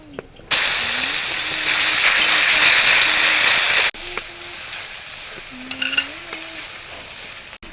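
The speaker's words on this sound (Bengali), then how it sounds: "রসুন ভাজা হয়ে গেছে" Garlic paste sizzles loudly in oil in a pan, a dense continuous frying hiss that drops to a softer crackle partway through, with stirring scrapes following.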